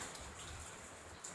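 Rain falling, heard as a faint, steady hiss with soft patter throughout, brief and even, with no voices.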